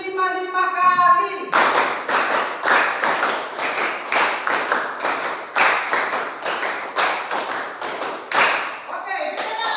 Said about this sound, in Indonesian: Oke, terakhir. Tepuk 5 kali.